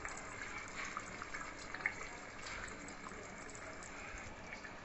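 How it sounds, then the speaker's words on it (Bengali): Brewed tea liquor is strained and poured into mutton kosha in a pan, making a soft, steady, faint trickling gush of liquid with no talk. "যে চাটা আমি ফুটিয়ে রেখেছিলাম সেটা ছেঁকে লিকারটা আমি ঢেলে দিয়েছি।"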